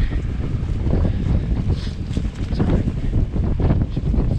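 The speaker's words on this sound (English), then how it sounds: "the wind, wind coming up off the field the lake, lake effect wind. It's a cold wind." Cold lake-effect wind blows across a field, a loud, continuous rumbling buffet of gusts against the microphone on a chilly November ride.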